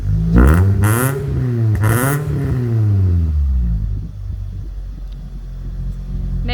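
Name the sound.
JDM barn find car engine running and revving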